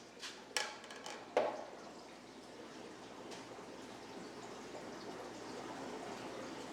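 Water splashing and sloshing as a sturgeon is netted into a 7-gallon tote, with two sharp splashes near the start and then a steady low trickle of moving water, close and alone.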